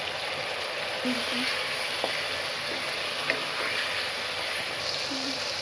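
Chicken noodles with chicken masala and garam masala sizzle over a high flame, a steady close frying hiss running throughout with a few faint clinks and brief soft vocal sounds.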